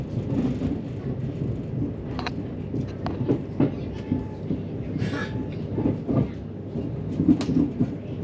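Southern passenger train rumbling across a bridge over the Great Western Main Line, heard from inside as a low continuous roar with faint rail clicks and clunks.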